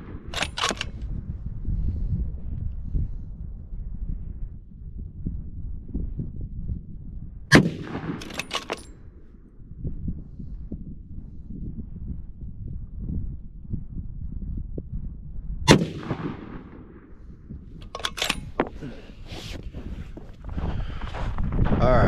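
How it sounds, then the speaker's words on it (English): Three loud, sharp rifle shots from a Ruger Precision Rifle in 300 Winchester Magnum ring out several seconds apart at an outdoor range, each cracking over steady wind and ambient noise. "We'll do one more 3-shot group,"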